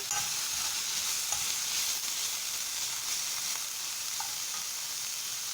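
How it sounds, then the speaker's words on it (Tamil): Steady sizzling of goat spleen frying with tomatoes in a pan, a continuous hiss with faint scrapes of stirring now and then, no voices. "இதை நல்லா கிளறி விட்டுக்கோங்க"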